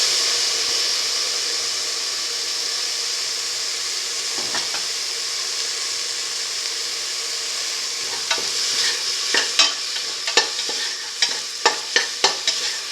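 Tomato pieces sauteing in a pan for a cheese fenugreek rice dish, a steady sizzling hiss joined later by a series of sharp stirring knocks and scrapes.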